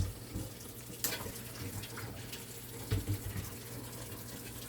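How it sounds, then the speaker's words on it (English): Shrimp being washed under very cold running water from a tap, a steady splashing stream with a few louder gushes and clatters as the shrimp are rinsed. "right now I'm just gonna wash it off in some very cold water"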